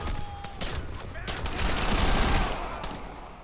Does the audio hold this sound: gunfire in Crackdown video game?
yes